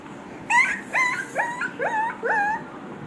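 A puppy close by lets out a series of five high, rising whimpers and yips, one after another with short pauses.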